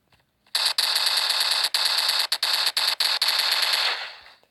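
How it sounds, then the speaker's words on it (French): A machine gun fires in Standoff Multiplayer, a video game, in one long, loud, close burst of rapid shots with a few brief breaks, then falls to silence. "La cible est criblée de balles."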